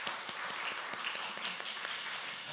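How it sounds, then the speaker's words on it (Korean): A church congregation at a Sunday morning service claps in thanks for the people who served the meal, a steady, bright patter of many hands that carries on for a few seconds. "박수 한번 하겠습니다."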